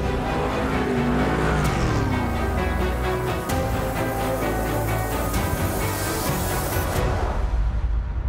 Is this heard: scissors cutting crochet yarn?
no